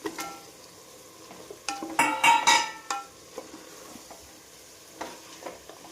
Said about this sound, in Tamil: நல்லா இது வந்து நல்லா எண்ணெய் பிரிய வதக்கிட்டு கூடவே கோழி போட்டுக்கலாம்.